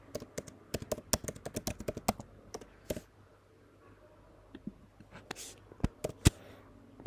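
A password is typed on a computer keyboard, close and crisp, with quick clusters of key taps, a quiet pause in the middle, then a few more scattered presses.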